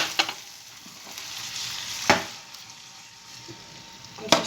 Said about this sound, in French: Dans une poêle, on va faire pocher les oignons